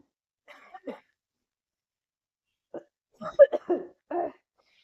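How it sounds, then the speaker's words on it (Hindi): A few short, dry coughs come in two bursts, a pair at first and then a rougher cluster after a pause, close and fairly quiet. "बहुत बुरी खांसी हो रखी है जुकाम की वजह से।"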